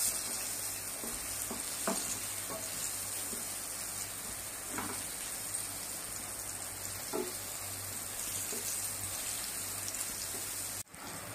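Paneer fries in sunflower oil on a tawa, giving a continuous close sizzle like light rain with scattered crackles and pops, ending in a brief clatter.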